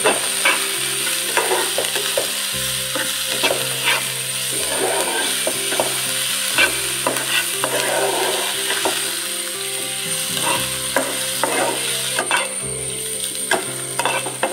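Shallots, onion, bird's eye chilies, ginger and garlic frying with salt in a pan, a continuous close sizzle under frequent clattering, scraping stirs from a spoon, with no voices.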